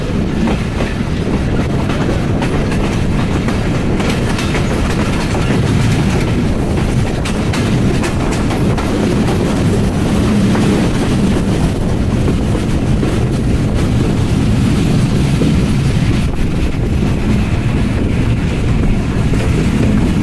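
The Banglabandha Express passenger train rolls steadily along the tracks, a continuous loud rumble with rhythmic clatter from the wheels and some wind buffeting, with no voices throughout.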